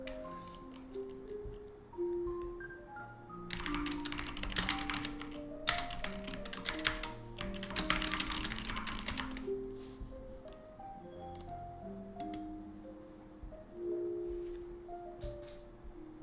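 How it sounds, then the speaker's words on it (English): Fast, forceful typing on a computer keyboard, close and clear, comes in several dense bursts of rapid clacking with short pauses between them and softer scattered key taps in the gaps. "Aggressive typing."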